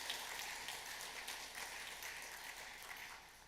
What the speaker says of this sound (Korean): 예, 박수로 환영합니다.